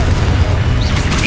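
A Confringo blasting spell explodes in Hogwarts Legacy, a loud, deep booming blast with low rumble sustained across the moment, with faint voice-like tones near the end.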